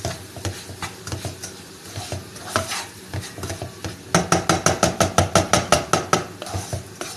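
A spoon scraping and stirring a semolina halwa mixture with egg in a pan, starting as irregular scrapes, then settling into a steady fast rhythm of about a dozen sharp, close strokes over a soft sizzle, with no voices.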